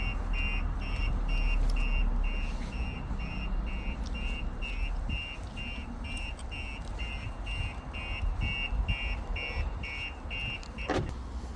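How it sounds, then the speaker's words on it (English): A 2023 Audi RS3's Starline S9 car alarm, set off by its shock sensor, sounds in steady, repeating electronic pulses over a continuous low rumble, with a brief sharp sweep near the end. "We've got built-in shock sensors, so you can hear it. It's just going to go off"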